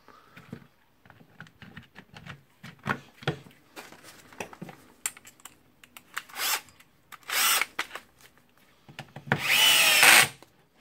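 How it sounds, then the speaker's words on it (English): Bosch GSR 18V Li cordless drill being screwed back together, with short bursts of motor whirring between taps, clicks and handling of small parts, the final burst longest and loudest, close up. "now screwing it back again."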